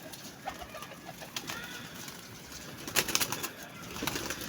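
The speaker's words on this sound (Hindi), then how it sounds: "क्रासों में बनाया हुआ टैडी कबूतर है" Pigeons coo softly and repeatedly close by, with light rustling and some wing flutters.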